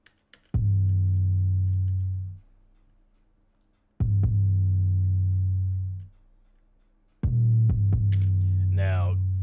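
Three long, deep booming processed 808 bass hits in a trap beat made in FL Studio, each sustaining with a low tonal hum before fading; the last is followed by a brief higher-pitched sweep.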